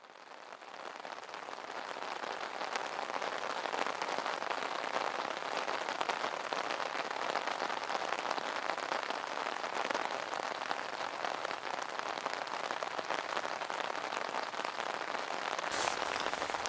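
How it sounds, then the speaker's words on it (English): Steady rain falls outside a remote forest camp, a dense unbroken hiss that stays even and close throughout with no voices. "It sounds like it's raining outside."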